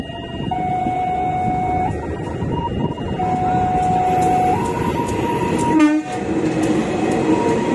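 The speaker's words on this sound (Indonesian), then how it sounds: "Kita tunggu keretanya dari sana." A train pulls into Mojokerto station, its loud steady rumble running throughout, with long sustained horn tones that shift in pitch and a brief sharp burst near the end.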